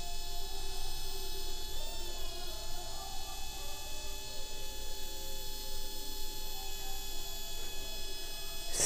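An RC helicopter's electronics give a steady high electronic whine with a low hum beneath, and the tone shifts slightly as a finger moves near its sensor, close and continuous.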